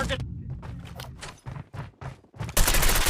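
Gunfire in the mobile shooter Call of Duty Mobile: a series of short bursts, each followed by a brief gap, then a dense sustained volley near the end. Someone talks excitedly throughout.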